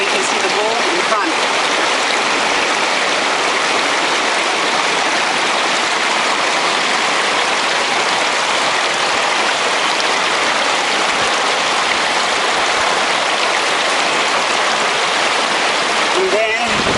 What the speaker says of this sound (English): Sort of swirl the water around just to get the rock from the edges.